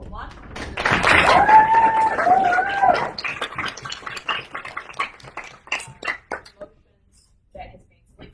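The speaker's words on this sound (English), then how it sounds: "let's just have another round of applause for bit one and Auckland one." An audience at a debate final applauds the competing teams, a dense burst of clapping that swells over a couple of seconds and then thins into scattered, irregular claps before fading out.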